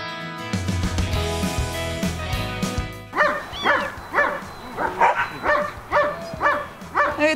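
Dogs bark and yip repeatedly at an animal shelter, a rhythmic series of close, loud barks over a dense, noisy background of other animals.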